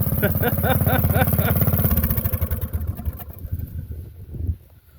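A mini bike with a modified loud exhaust idles close by, a rapid, pulsing engine rattle that fades into choppier, uneven firing before a last rev and cutoff, with brief talk over it.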